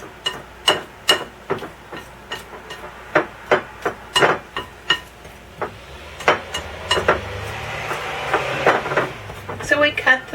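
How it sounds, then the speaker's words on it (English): Butter and shortening cut into flour for pie crust, a series of sharp, close knocks and clinks of a utensil against a bowl in an uneven rhythm, thinning into softer scraping with a faint voice in the background. "So we cut the butter and shortening in until it has a crummy texture."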